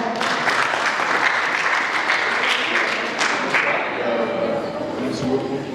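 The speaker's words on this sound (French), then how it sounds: "Des applaudissements encore une fois" An audience applauds at a film festival in Diourbel, a sustained wash of clapping that gradually thins toward the end while a voice speaks over it.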